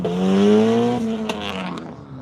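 A race car pulls away on a wet skid pad with a rising, strained engine tone, loud and close at first and then easing as it moves off, with some scraping noise near the end.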